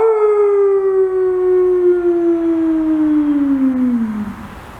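A person imitates a dog or werewolf howl with one long, loud, sustained wail that slowly slides downward in pitch before trailing off.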